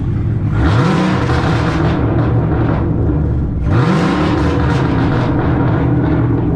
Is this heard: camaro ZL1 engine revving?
yes